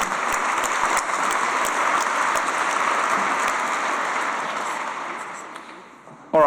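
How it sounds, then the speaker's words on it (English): A room full of people applauding the UCISA team at a learning technology awards ceremony, steady dense clapping that slowly fades, with a voice starting up at the very end. "Once again, a round of applause for the UCISA team."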